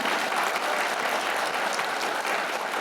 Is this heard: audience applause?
yes